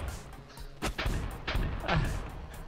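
Gunshots in the stick-figure brawler Stick Fight, a handful of heavy booming shots spaced irregularly over a few seconds, loud and near with no talk.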